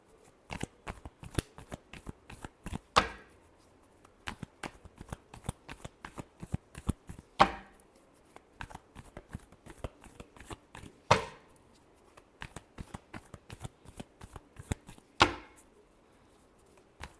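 Tarot cards shuffled by hand in a quiet room, a dense run of crisp riffling flicks broken every few seconds by a sharper, louder bridge or snap, repeating four times with no voice.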